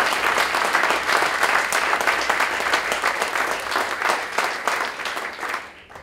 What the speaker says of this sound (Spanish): que les pido un, aplauso para el Horacio